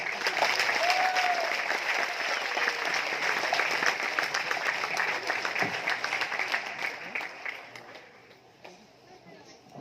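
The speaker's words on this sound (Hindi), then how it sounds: "इसके लिए तालियां" Audience applause at a talk in Mumbai, a dense steady clapping that holds for most of the stretch before thinning and fading near the end, with faint voices under it.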